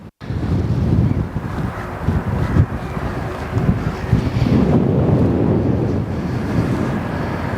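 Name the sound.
wind at the Westerschelde shore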